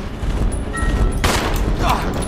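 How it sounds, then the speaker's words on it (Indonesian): Pistol gunshots in the Resident Evil 0 video game, sharp loud cracks over a dense low rumble, with one especially bright shot in the middle and another fainter one after. "Coba gua pakai pistol aja, teman-teman."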